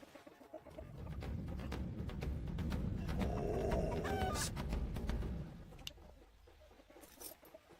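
Chickens clucking and squawking nearby on a farm where a bird dog is being tested around them, a burst of agitated fowl calls rising over a few seconds and then settling into scattered faint clucks.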